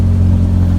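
A car with a manual gearbox and clutch holds a loud, steady, low engine drone close by for under a second, with no talking.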